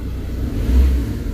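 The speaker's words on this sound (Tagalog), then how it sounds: "Kita mo yung response ng makina" A Ford Ranger 3.2 engine revs, producing a steady low rumble that swells briefly in the middle, with no voices heard.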